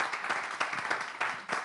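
Studio audience applauding in a French TV show, a short burst of dense, steady clapping with a few louder surges. No one speaks over it.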